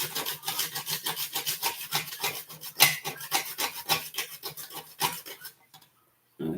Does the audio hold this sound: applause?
no